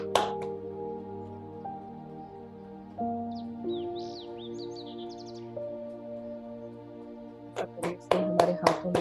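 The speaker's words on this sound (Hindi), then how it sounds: "एक बार ताली बजाएं।" Meditation participants clap near the end with a few scattered, sharp hand claps. Before that come a soft sustained drone and faint bird chirps in a quiet room.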